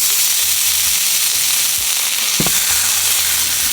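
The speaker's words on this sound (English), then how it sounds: "For this, we're finna toast our ginger." Split ginger and onion toast in a hot pot for beef pho, giving a steady loud sizzle and crackle up close, with a brief sharper pop partway through.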